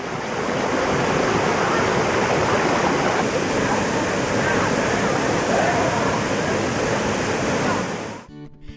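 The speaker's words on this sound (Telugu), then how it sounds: "ఇది కేవలం ఒక జలపాతం కాదు, అనేక జలపాతాల సంగమం" Hogenakkal waterfalls in Karnataka, many falls joining and dropping from height, produce a steady, dense, loud roar of rushing water that fills the scene without pause until it cuts off near the end.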